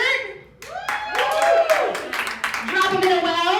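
Audience applause and cheering at a live musical comedy show, clapping and shouts swelling under overlapping excited voices for a few seconds, with people calling out on top.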